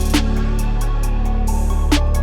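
An added snare drum sample plays inside a dense song mix. A few crisp snare hits sound over a loud, sustained bed of music, with no voices.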